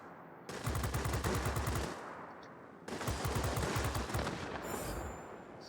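Aircraft machine guns fire in the World of Warplanes video game, the Bell XP-77 fighter shooting down an F4F, two sustained rapid bursts of close, loud gunfire separated by a short pause.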